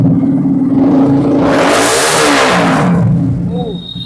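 A motorcycle engine revs up sharply to a loud roar, holds, then drops back to a low idle, heard up close.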